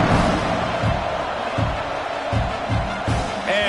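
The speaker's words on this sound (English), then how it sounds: "this crowd is buzzing after that last score" Video game stadium crowd at a college football game buzzing after a score, a constant loud roar of many voices with low thumping stomps or drum hits pulsing underneath.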